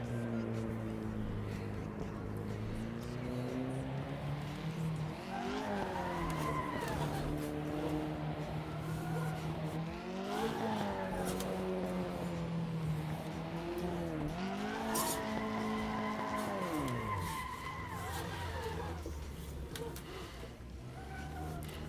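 A drift car revs through repeated rising and falling engine sweeps while its tires squeal and skid in long slides during drift practice, loud and steady throughout, with a voice briefly audible.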